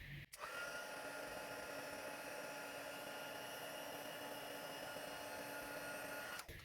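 A heat tool blows steadily while melting white embossing powder on a card, a continuous close whir that holds at an even level throughout with no talking.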